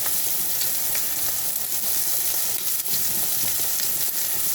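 Potatoes in a pan on high heat start to boil, a loud, close, steady sizzling and bubbling hiss that runs without a break.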